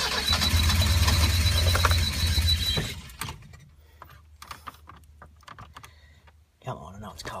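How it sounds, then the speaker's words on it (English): A Ford Econovan starter motor cranks loudly for about three seconds after servicing, then the engine catches and settles into a low idle, with a voice speaking briefly near the end. "Starters are working again."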